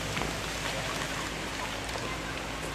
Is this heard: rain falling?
yes